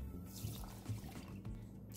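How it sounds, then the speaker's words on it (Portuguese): Milk poured from a cup into a gluten-free, flour-free cake batter of granular crumbs, a faint, soft, steady liquid trickle and gurgle close by, low and quiet throughout. "Aqui eu vou colocar 3 copos de 200 ml de leite."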